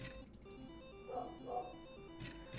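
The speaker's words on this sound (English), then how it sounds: "Can you hear Henry barking?" A few muffled dog barks in the background, distant and fairly faint, with a low hum and a voice present.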